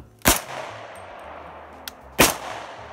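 A Honey Badger rifle fires two loud, sharp gunshots about two seconds apart, each with a short ringing tail outdoors, with quiet background between the shots.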